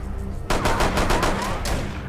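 Rapid automatic gunfire in Rainbow Six Siege, a loud sustained burst of close shots with a brief pause before a final shot.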